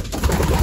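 Pigeons in a loft give a short, close burst of throaty cooing that fills the moment without pause.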